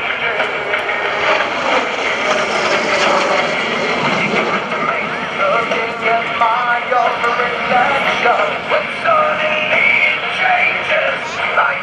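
A jet trainer powered by a single Ivchenko turbofan of about 3,800 pounds of thrust flies at a 2014 naval air station airshow, producing a loud, steady roar that holds throughout.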